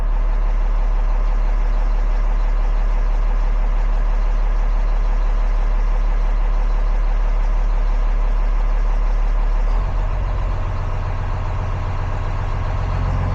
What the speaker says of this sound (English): Our engine is idled up.